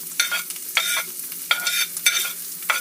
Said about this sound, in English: And then you'll just put the oyster mushroom in the pan too.